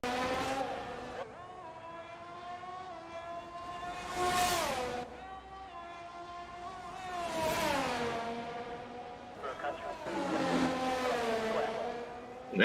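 A sim race car at full throttle around the Monaco Grand Prix circuit in a racing game, its engine note climbing through the gears in repeated rising sweeps, close and loud, with short dips at each shift and no voices.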